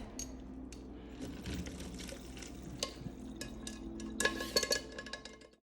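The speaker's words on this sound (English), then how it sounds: "Straining the grease off." Grease being strained off cooked chili meat, quiet liquid trickling and stirring with scattered metallic clinks and scrapes, louder clattering toward the end, no speech.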